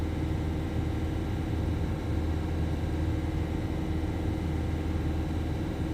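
A Volvo V50 1.6 diesel with a blocked particulate filter is held at a steady 2,500 RPM, giving a constant droning engine hum with no other sounds over it.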